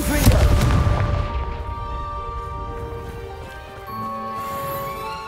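In the Hogwarts Legacy video game, the Confringo spell blasts pumpkins apart with a loud booming burst and crackling debris, followed by a lingering ringing magical tone that fades out, then a softer second burst.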